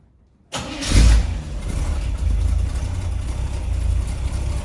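A 1928 Ford Model A engine fires up suddenly from silence, surges in a loud rev, then settles into a rough, steady idle close by, with no voices over it.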